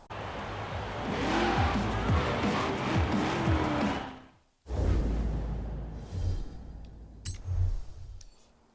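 A C8 Corvette in Forza Horizon 4 roars hard with squealing, skidding tires, then the engine cuts out abruptly for a moment before revving back in bursts and a sharp click, loud and close with no talk.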